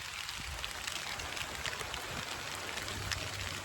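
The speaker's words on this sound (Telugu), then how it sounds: "ఇంకా వర్షం పడుతుంది" Rain falls steadily during a motorcycle ride, making a faint, even hiss of drops that persists throughout with no voices over it.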